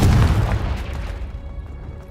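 A Confringo fire spell explodes in the Hogwarts Legacy game, a loud, deep booming blast up close that rumbles and fades away over about two seconds, alone without talk.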